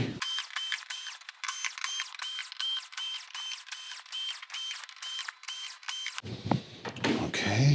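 Screws come out of a Samsung PN59D6500DF plasma TV, probably with a powered driver, in a fast run of about a dozen evenly spaced whirring bursts that end in a short rustle and clatter.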